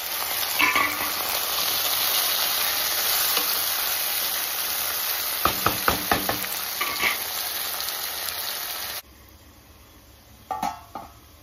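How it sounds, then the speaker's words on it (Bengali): Loud, continuous sizzling of chicken frying in a pan, with a few clattering stirs, before the hiss drops away near the end. "আর এখানে চিকেন বসিয়ে দিয়েছি, চিকেনটা ভেজে নিচ্ছি।"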